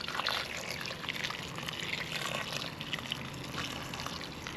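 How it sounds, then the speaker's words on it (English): Boiling water pours steadily into a pressure cooker holding oxtail for a Jamaican stew, a continuous soft splashing trickle at close range with no talking. "I'm gonna add some water."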